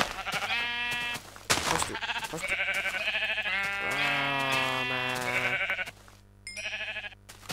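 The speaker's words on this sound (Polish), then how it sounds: "Owco, owco." Sheep in a Minecraft-style video game bleat several times, loud and close, in wavering calls with short gaps between them, while a person talks briefly among them.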